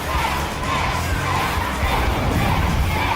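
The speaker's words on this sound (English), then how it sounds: "The crowd love it, the team doesn't." A loud arena audience at a Robot Wars featherweight championship cheers and shouts after a robot is knocked out, a dense, continuous roar of many voices with children's yells mixed in.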